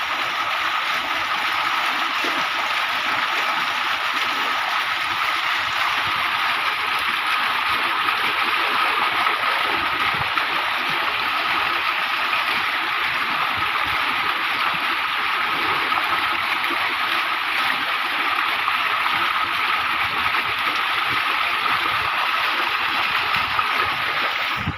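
A farm water pump motor runs steadily while water gushes out in a continuous, even rush that stays loud and close throughout, with no speech.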